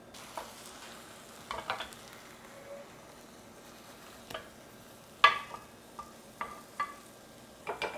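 Beaten egg layers for a Korean rolled omelette sizzle softly in an oiled pan, with scattered scraping taps of a utensil stirring and pushing the egg, quiet and close, several sharper clicks near the end.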